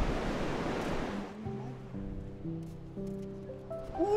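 Ocean waves washing onto a beach at sunrise, a close hissing rush of surf that fades out after the first second, leaving quieter low tones and faint scattered sounds.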